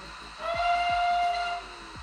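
A loud, steady steam whistle blast from a Hornby Battle of Britain Class model steam locomotive, lasting about a second, with hissing around it and a rhythmic chuffing beat underneath.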